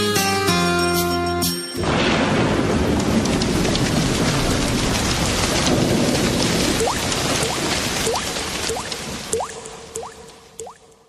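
Steady rain falling with dripping water and a low rumble of thunder. A brief musical tone comes first, then a dense, continuous wash of rain with scattered drips that fades slightly toward the end.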